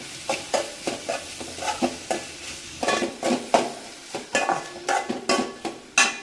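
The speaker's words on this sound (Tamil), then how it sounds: "நல்லா வதங்கிட்டு இருக்கு" Tomato and onion sauté in a pan for a banana and dried fish fry, giving repeated bursts of stirring and scraping over a soft sizzle, close and fairly steady, with no talk.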